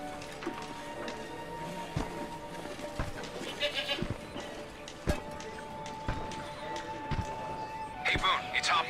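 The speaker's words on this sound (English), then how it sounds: "goats eat through anything." Goats bleat in short bursts amid farm ambience and clunking in the Homefront video game, fairly close and moderately loud with brief sharp knocks around them.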